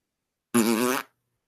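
A single loud fart, about half a second long with a buzzing, fluttering tone, stands alone between stretches of silence.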